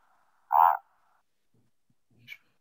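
A toad gives one short, loud trilling call up close, followed by quiet faint rustles and a small chirp in an otherwise still outdoor setting.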